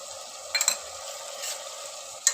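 Soft tomatoes for tomato bath fry in a pan while a spoon mixes them, giving a steady, fairly quiet sizzle broken by a few brief spoon clinks and scrapes.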